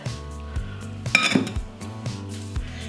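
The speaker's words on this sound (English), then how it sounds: "you start by scraping the perimeter of the bowl and folding it over onto the egg whites" A spatula scrapes around a mixing bowl while folding beaten egg whites into lemon chiffon cake batter, giving close, repeated scraping and light clinks against the bowl, with one louder knock near the middle.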